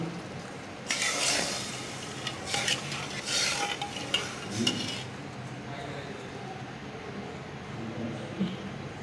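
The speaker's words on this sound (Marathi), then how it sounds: "तांदूळ पण छानपैकी परतवून घ्यायचा।" Rice being stirred and sautéed in a pressure cooker pot: bursts of scraping and utensil clatter for several seconds over a low background hum, then quieter.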